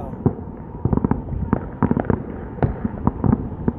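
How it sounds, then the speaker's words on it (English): Fourth of July fireworks pop and crackle in rapid, irregular clusters, sounding muffled and somewhat distant, with no talking. "what this feels like as far as the explosions and then the fireworks that are going off"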